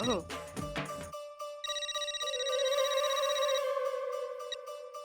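A telephone rings in a household scene of a Hindi sitcom, a melodic electronic ringtone sounding steadily and fairly close after a short burst of speech at the start.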